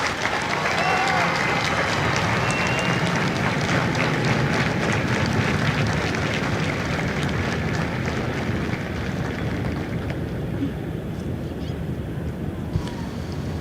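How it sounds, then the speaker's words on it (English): Audience applause for the company staff at a Marine Corps recruit graduation ceremony at MCRD San Diego, steady broadband clapping from a large outdoor crowd with wind noise and faint voices, sustained throughout. "please join me in a round of applause for the company staff of Company F"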